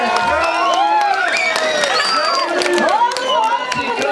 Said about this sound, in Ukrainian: Прошу оплесками привітати їх з професійним святом.